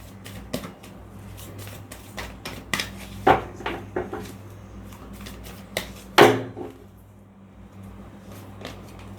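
Tarot cards handled and shuffled on a table, a series of sharp slaps and riffling clicks in irregular bursts, close and fairly loud, with no talking.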